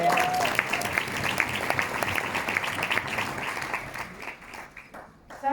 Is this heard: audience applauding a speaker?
yes